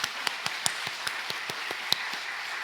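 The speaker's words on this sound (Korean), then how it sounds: "우리 강윤선 목사님께 다시 한번 감사의 박수 보내겠습니다." A church congregation gives applause of thanks after a sermon, sharp distinct hand claps repeating in an even quick rhythm, sounding like only a few hands, over a low steady room hiss.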